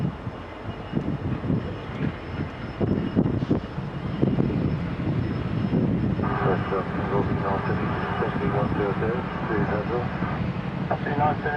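Airliner jet engines roar steadily during a takeoff roll on runway 34 right at Sydney Kingsford-Smith airport, loud and continuous, with a rising engine whine toward the end and faint radio chatter underneath.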